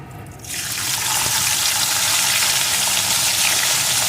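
Whole garlic cloves drop into hot oil with fried chilies for a pui saag fry, and a loud, bright sizzle bursts up after a brief quiet start, then stays steady and hissing to the end.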